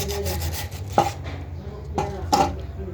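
Sandpaper rubbing rust off a metal rice cooker part, a close scratchy rasp with a few sharper strokes at irregular intervals, no talking.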